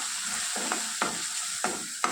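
Chilli powder and turmeric sizzle steadily in hot oil, close up, broken by four sharp stirring scrapes at a regular pace.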